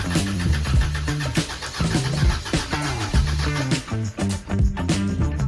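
A new Honda K24 engine starting for the first time after installation, running loud and close with a rough, pulsing idle and uneven rhythmic knocks, revving slightly with dips in level.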